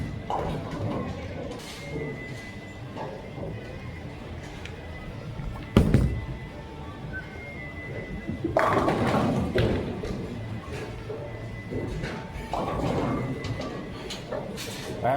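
Vintage urethane bowling balls are thrown down an alley, with thuds and rolling rumble over a constant noisy bowling-center din, a sharp impact near the middle and a louder crashing stretch after it.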